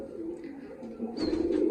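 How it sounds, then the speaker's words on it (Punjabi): Pigeons coo in a low, steady murmur, rising a little toward the end, with a faint higher bird call over it. "ਇਹ ਪਿਓਰ ਕਬੂਤਰਾ"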